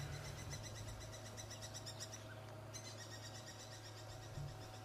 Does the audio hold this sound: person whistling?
no